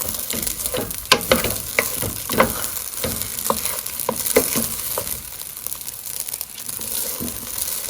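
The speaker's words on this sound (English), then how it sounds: "about 2 minutes have passed since I've been toasting up my rice" Rice toasting in a hot pan gives a steady, close sizzle and crackle, broken by occasional scraping stirs and sharper pops.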